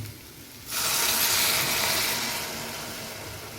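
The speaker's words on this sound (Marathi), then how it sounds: "हे खेकड्याचं जे पाणी काढलं होतं आंगड्यांचं पाणी ते आता टाकून घेऊया त्यामध्ये" Crab stock is poured into a pan of curry: a sudden rush of liquid begins and becomes a loud, steady hissing pour that gradually eases, close by.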